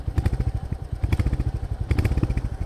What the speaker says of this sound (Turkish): Egzozun sesini size dinletmek istiyorum.